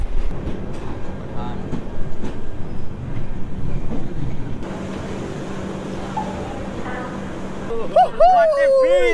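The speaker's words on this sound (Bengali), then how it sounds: "এক সাইডে জম্মু তাওয়াই এক্সপ্রেস আর অপর দিকে বন্দে ভারত।" Trains at Pathankot railway station, with the Jammu Tawi Express on one side and a Vande Bharat on the other, give a steady rumble and wind noise. A voice talks over it, and a whistle-like tone rises near the end.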